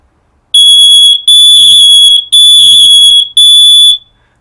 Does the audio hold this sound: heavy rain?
no